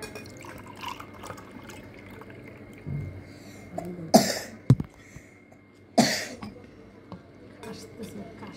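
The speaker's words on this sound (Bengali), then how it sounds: "কাশতেছে, কাশতে কাশতে শেষ।" A person coughs twice, two loud, harsh bursts a couple of seconds apart, close to the microphone, with quieter voices and household sounds around them.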